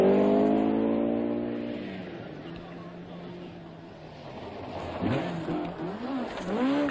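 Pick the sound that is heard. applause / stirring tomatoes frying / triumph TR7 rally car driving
triumph TR7 rally car driving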